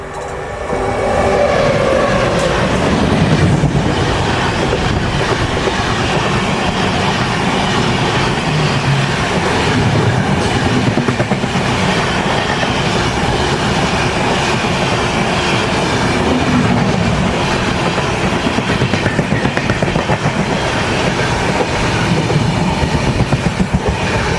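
Inside a general coach of the SMVB Bengaluru to Visakhapatnam special train, a loud continuous rumble with rhythmic clickety-clack of wheels on track fills the whole stretch, with no voices.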